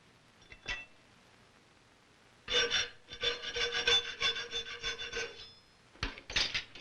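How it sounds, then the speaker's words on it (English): A hand file rasps along the fitting edges of a metal butt plate on a colonial-style gun stock, giving a close run of rhythmic scraping strokes after a few light taps, with no talk. "The butt plate is filed only on the fitting edges now."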